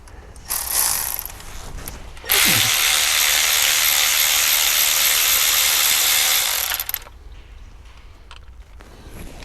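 A ratchet tool works a bolt loose during a cam phaser swap, a short burst first and then a loud, continuous whirring rattle for about four seconds, close up, before it stops.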